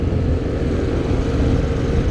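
A bus engine bears down from behind a PCX scooter on the road, a loud, steady low rumble of heavy motor and road noise close at hand with no talking.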